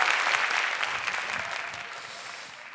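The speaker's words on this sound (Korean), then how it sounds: "여러분들 이렇게 너무 열광적으로 박수를 쳐주시니까" Enthusiastic applause from a live lecture audience, dense and steady clapping throughout that slowly tapers off toward the end, with no talking over it.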